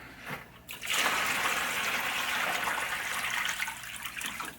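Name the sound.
hot water pouring into a bucket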